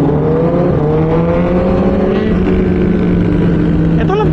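An inline-four superbike engine with a flat-plane crank revs steadily, loud and near, its pitch rising gradually before a quick blip near the end.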